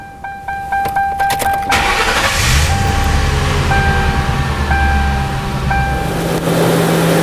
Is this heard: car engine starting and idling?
yes